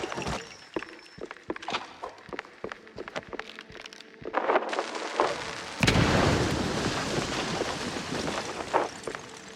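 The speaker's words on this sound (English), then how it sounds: "I'm pretty sure the fire department frowns on stuffing firecrackers into wooden attics" Firecrackers go off in a wooden attic in the game Mouse: PI For Hire, a rapid irregular string of sharp pops and cracks followed by a louder burst and rumbling debris.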